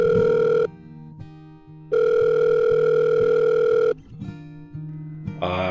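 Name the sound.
cellphone ringing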